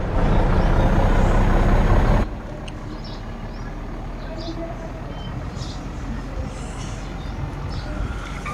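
A heavily loaded diesel truck engine in a video game drones loudly, then drops to a lower, steady rumble as it keeps driving.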